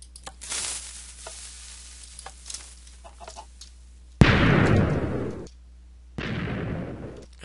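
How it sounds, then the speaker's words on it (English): Two loud, noisy TNT explosions from a TNT cannon in a video game, each lasting about a second, break in after a stretch of quiet clicks and small scattered sounds. "TNT falls down, shoots, propels that TNT, and blows up."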